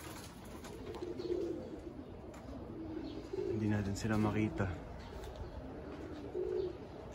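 Pigeons in a loft coo softly in low, repeated murmurs while someone talks nearby over a faint outdoor hum on a windy day.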